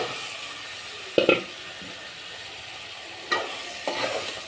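Vegetable stalks fry with spices in a pan under a low, steady sizzle, with a few isolated scrapes and knocks of a spatula, heard close with no voices.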